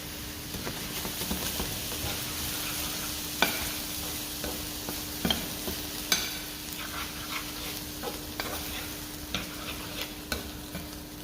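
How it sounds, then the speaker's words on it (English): A sauce being stirred in a pan, a spoon scraping and knocking in irregular strokes over a low steady sizzle and hum, close and moderately quiet with no talking. "I give this a good stir up"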